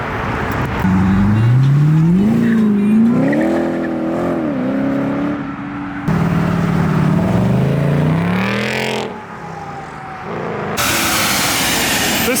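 A supercharged V6 Dodge Challenger pulls away from a car meet, its exhaust rising in a loud, rising rev through the gears before a brief lift and another pull, then fading.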